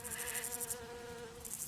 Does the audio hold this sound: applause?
no